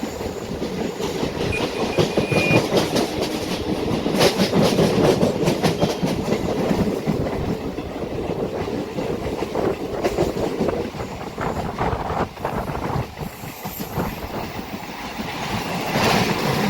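Rumble and rhythmic clickety-clack of an MMTS local train running on the Lingampally to Medchal line, heard from on board as a steady, loud rolling roar with repeated wheel-joint clatter throughout, no talking.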